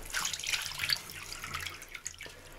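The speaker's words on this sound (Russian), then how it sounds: "Сливаем полностью эту воду." Salty brine being poured off salted fish during salting for drying, a short close splashing pour of liquid with a few drip-like spatters, fairly faint, no talking.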